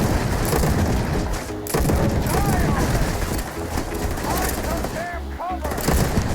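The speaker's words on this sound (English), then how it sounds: "Because it's a burst fire weapon, that might be one of the mods doing that." Burst-fire shots from the Ambassador weapon in the Starfield video game, loud rapid cracks and booms in dense repeated bursts over a busy game soundscape with music.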